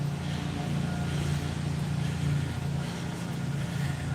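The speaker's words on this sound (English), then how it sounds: "I already hear some other engines going on over there." Distant engines running somewhere in a residential neighborhood, a low steady hum with faint rumble holding throughout, no voices over it.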